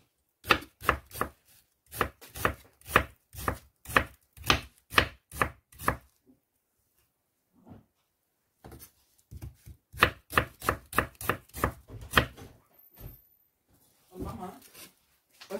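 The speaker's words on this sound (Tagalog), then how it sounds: "Slice natin sibuyas." A knife slices an onion on a cutting board for a Filipino mung bean dish, giving rapid, regular chopping taps in two bursts separated by a pause, close and crisp, with brief faint talk near the end.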